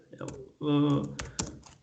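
Typing on a computer keyboard during an R programming session, heard as a few scattered, fairly close key clicks mixed in with a talking voice.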